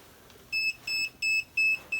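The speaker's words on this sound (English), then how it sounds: "It's beeping right now that I picked it up." A GOTRAX Hoverfly ION hoverboard beeps as it is lifted off the ground: four short, evenly spaced electronic tones, loud and close, with quiet background between them.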